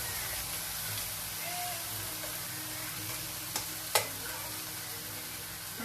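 Courgettes frying in a pan with a low, steady hiss and sizzle, plus a couple of sharp metallic clicks from tongs turning the pieces. The sound is fairly quiet and there is no talk.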